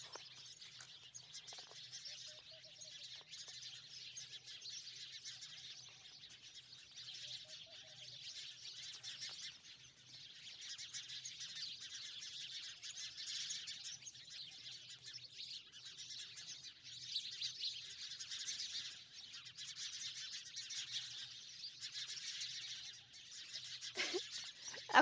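Sparrows chirp in a lemon tree, a dense, continuous chatter of many small birds held at a steady moderate level throughout, with a few louder, nearer calls breaking through.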